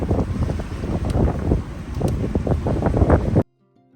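Strong wind gusting around 22 to 26 knots while sailing, loud buffeting roar across the microphone with choppy bursts and rushing water, stopping abruptly near the end.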